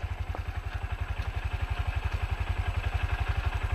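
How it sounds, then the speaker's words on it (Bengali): A motorcycle engine idles and begins pulling away slowly in first gear, its low, even chugging pulses steady and close throughout, with no talk over it. "1 নাম্বার গিয়ার দাও আর আস্তে আস্তে পিক আপটা দাও"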